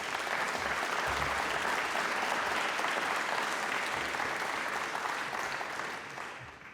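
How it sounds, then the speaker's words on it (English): Steady applause from a seated audience at a research-funding panel event on science in Ukraine, dense and continuous clapping that holds for several seconds before tapering slightly at the end. "So give us a hand of applause for those who are here."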